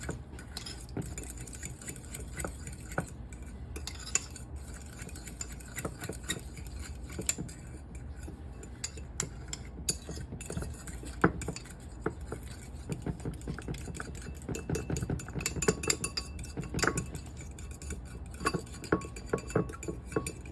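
Spoon stirring Sriracha sauce in a bowl, a close series of quick clinking and scraping strokes against the dish that grows busier and more rhythmic toward the end.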